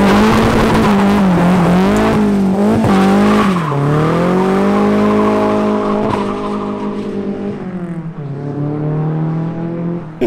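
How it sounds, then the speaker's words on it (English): A turbocharged car fitted with an SR turbo and wastegate running 7 PSI of boost accelerates hard, its loud, close engine note climbing and shifting in pitch through the gears with a strained, roaring tone and no talk. "So he puts a SR turbo on it, wastegate, 7 PSI, and the thing picks up 100 horsepower."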